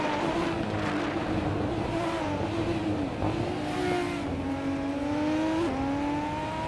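Race cars in a racing video game roar off the start line, several engines droning and rising in pitch together with gear-change steps, loud and continuous with no voices.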